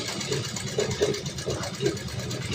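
A sewing machine running a straight stitch in a beginner sewing lesson, with a steady close mechanical whir and a regular faint ticking as the needle works.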